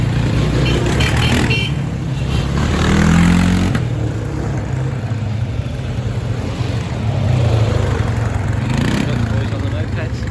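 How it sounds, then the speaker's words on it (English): Mopeds pass along a narrow village street in Koutouloufari, Crete, their small engines buzzing closer and louder, then fading, with a second swell later on as people talk nearby. "Mopeds coming."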